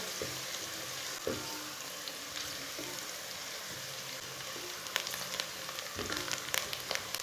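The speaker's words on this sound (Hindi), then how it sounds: "इसे मीडियम आंच पर हल्का सा ब्राउन कर लेना प्याज को।" Onions frying and browning in a pan over medium heat, a steady close sizzle with occasional stirring scrapes and pops, no voices.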